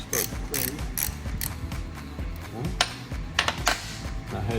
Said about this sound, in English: We're going to push our bearing in.